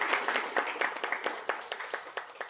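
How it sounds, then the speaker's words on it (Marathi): An audience at a Marathi movie song launch event claps in a brisk, steady patter of many hands, fairly close and continuous throughout with no talk over it. "त्यांच्यासाठी सर्वप्रथम जोरदार टाळ्या"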